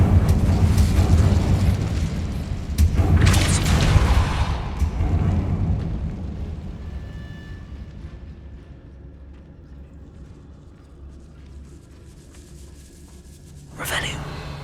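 An Incendio fire spell cast in a Harry Potter-style video game, set in a decaying catacomb: a loud whooshing, booming burst of flame around the middle, fading into a quieter ambient rumble, with a second flare near the end.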